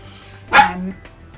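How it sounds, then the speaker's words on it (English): A pet dog gives a single sharp, close bark indoors, a short loud burst over quiet room tone. "Shush! That's my dog."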